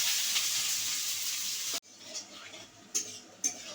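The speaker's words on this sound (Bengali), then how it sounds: "কড়াইয়ে দিয়ে দিচ্ছি প্রথমে পেঁয়াজ" Onion and green chilli sizzle in hot oil in a wok, a strong hiss for the first couple of seconds, then a quieter simmer with a few light clinks of a utensil.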